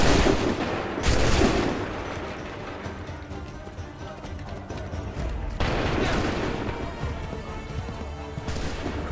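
Musket volleys crash out in a loud Assassin's Creed III battle, two big broadband bursts a few seconds apart with a dense rumble of battlefield noise between them.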